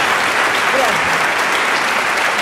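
Concert audience applause at a Piazzolla 100th-anniversary performance: steady, dense clapping from a full crowd that holds at an even level throughout, with no pauses.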